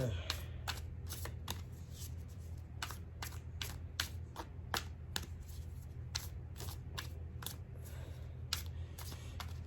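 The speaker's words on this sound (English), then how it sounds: "I'm going to do a couple more shuffles here." Tarot cards are shuffled steadily in rapid, crisp riffles and slaps, repeating throughout over a low background hum.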